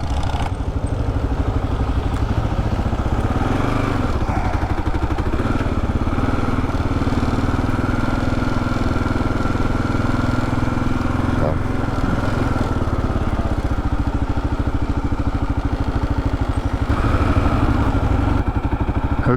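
A Kawasaki KLR 650 Adventure motorcycle rides on a road in North Carolina, its single-cylinder engine a loud, steady, throbbing drone with constant wind rush the whole way through.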